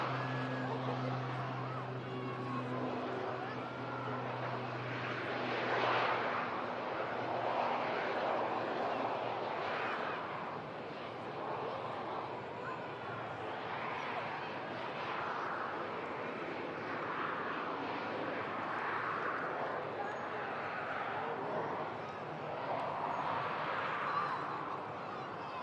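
A Beechcraft 200 turboprop of Capital Air lands on the runway at Manchester Airport, its broad engine roar swelling and fading at a moderate distance and running steadily throughout.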